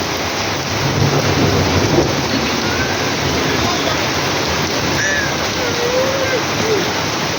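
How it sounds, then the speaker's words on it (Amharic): Rain falls heavily and steadily in a dry farming area while thunder rumbles low underneath, a loud continuous wash with faint voices and a few chirps mixed in. "ይሄው እየዘነበ ነው"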